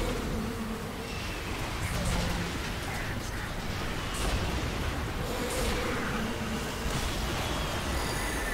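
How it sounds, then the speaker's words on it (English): A swarm of bees attacking in the City of Heroes video game, a dense continuous buzzing drone that fills the whole stretch at moderate loudness alongside other game effects. "Let's throw some bees at them."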